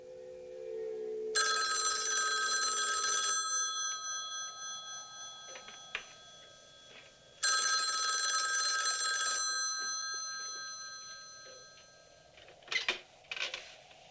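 An old telephone bell rings in two long bursts from a Black Christmas film scene, a loud metallic trill separated by a quiet pause, followed by faint clicks and movement.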